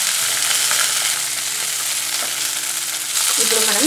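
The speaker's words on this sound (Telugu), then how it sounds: "ఈ విధంగా వేగిన తర్వాత మనం దీనిలో 4 కరివేపాకు రెమ్మలు వేసుకోవాలండి." Curry leaf sprigs fry in hot oil for a coconut peanut chutney, making a loud, continuous crackling sizzle up close that flares briefly near the end.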